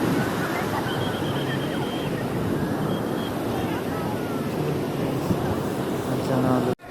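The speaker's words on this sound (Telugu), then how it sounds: "వాటర్ ఎంత బాగున్నాయో, అలలు అవి ఎక్సలెంట్ ఫ్రెండ్స్" Ocean waves roll onto a Goa beach with a continuous broad wash of surf and wind rumble against the microphone, fairly loud and steady throughout, with voices faintly mixed in.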